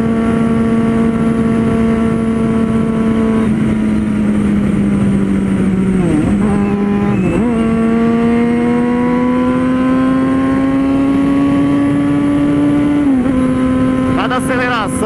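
A 600 cc four-cylinder motorcycle engine runs loud and close, holding a steady idle then blipping the throttle with quick rises and drops in pitch before settling again.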